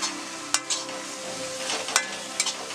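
Green chilies stirred in a pan of egg roast masala with a light sizzle under sparse utensil clicks, a few sharp scrapes standing out over a steady frying hiss.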